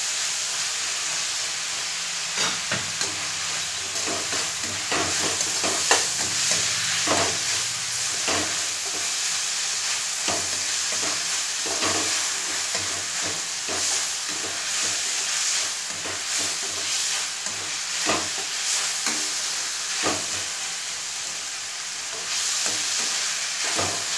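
A spoonful of ginger garlic paste fries in a hot pan while a spoon stirs it, giving a constant loud sizzle and hiss broken by scraping clicks, close up, with no talk.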